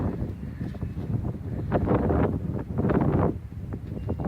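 Wind gusts buffet the microphone in a steady rumbling roar, swelling in broad low-frequency surges with no voices present.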